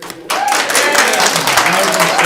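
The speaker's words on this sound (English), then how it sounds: "Can you please hold your applause?" Crowd at a Coeur d'Alene city council meeting bursts into loud applause mixed with cheering voices, starting abruptly after a brief quieter moment and continuing at full strength.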